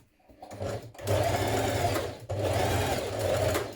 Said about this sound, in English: Now stitch together your two front facings here, starting at this large circle.